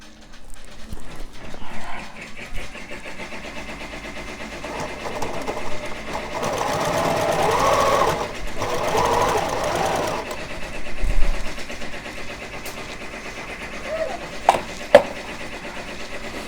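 Close, steady hum and clatter of a sewing machine running a straight stitch on a Christmas craft project, continuous for the whole stretch with a few sharp knocks near the end.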